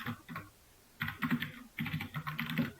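Python code typed on a computer keyboard, quick bursts of close, crisp key clicks with a short pause, then a busier run of keystrokes continuing to the end.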